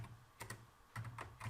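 Quiet bursts of computer keyboard keystrokes while C code is typed, soft clicks in two short clusters with a pause between them over a faint low hum.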